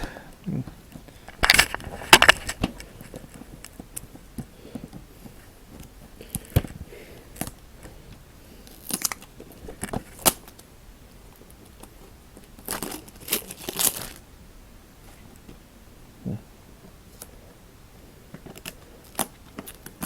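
Plastic wrap being torn and peeled off a 1995 VHS tape, producing scattered close crinkles and sharp crackling bursts separated by quiet gaps, fairly faint overall.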